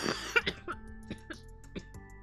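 A few quiet coughs and throat-clearing sounds from a person at a gaming microphone, close but soft, in short bursts that trail off into silence.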